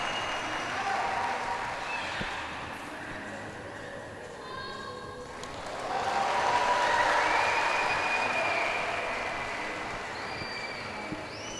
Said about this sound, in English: just listen to the noise that's gone up from the crowd for Amit Onda